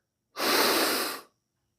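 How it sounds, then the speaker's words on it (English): A single deep inhale through the nose, drawing air down into the belly, lasts just under a second as a close, airy hiss that rises quickly and fades out, with no talking. "Now take a deep breath in through your nose and into your belly."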